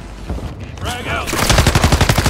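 Rapid automatic gunfire in a Call of Duty match rattles in a dense burst of quick cracks, preceded by softer scattered shots and action noise.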